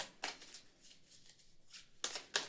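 Tarot cards are shuffled in a few quiet bursts, a riffling flutter near the start and two more toward the end, with soft pauses between and no talk.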